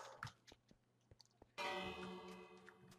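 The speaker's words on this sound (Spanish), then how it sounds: "Otra vez la campana" A bell rings from a village in the video game Minecraft, entering as a sudden bright, sustained chime partway through after a stretch of quiet clicks and taps, heard at a moderate distance with no talk over it.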